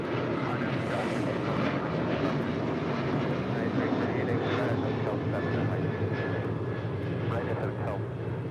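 An airliner's engines roar continuously as it takes off from runway 25 right at LAX. The engine noise is loud and steady and fills the whole stretch, with faint radio chatter beneath it.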